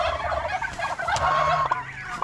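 Domestic turkeys on a farm gobble in rapid overlapping bursts, close and fairly loud, with other fowl adding occasional calls.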